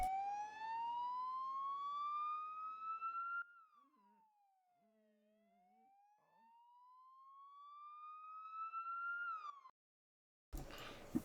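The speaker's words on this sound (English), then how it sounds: "there are 3 different sirens on all vehicles. There's a wail, there's a yelp, and finally there's a high-low siren." Ambulance sirens in the Emergency 4 video game with the Agerskov mod sweep in a slow rising and falling wail, fading low in the middle before rising again. A short silence follows near the end, then a burst of noise.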